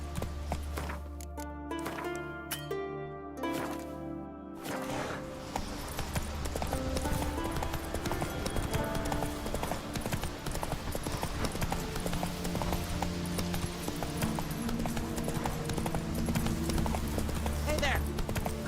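Horse galloping in The Witcher 3, rapid hoofbeats of clip-clop rhythm building after a brief lull and running steadily under in-game voices and background music.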